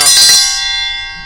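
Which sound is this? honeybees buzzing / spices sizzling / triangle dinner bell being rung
triangle dinner bell being rung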